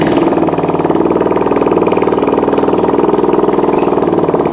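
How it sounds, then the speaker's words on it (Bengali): A Bajaj Discover motorcycle engine, ticking and rattling, idles steadily and fairly loud right after starting. It makes an even, rapid pulsing throb with no speech. "আমরা বাইকটা স্টার্ট দিয়ে দিলাম।"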